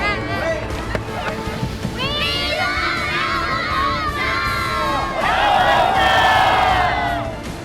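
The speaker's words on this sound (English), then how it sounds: "I'm really enjoying this great crowd to have on a Monday morning come out of school to cheer us on" Crowd of schoolchildren shouting and cheering loudly and continuously at a car rally stop on the Fireball Run in Alamosa on a Monday morning, high excited voices swelling louder toward the end.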